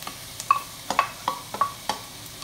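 Carrots going into a frying pan with onion, a low sizzle under a series of sharp scraping and tapping strokes in an irregular rhythm, close and moderately loud.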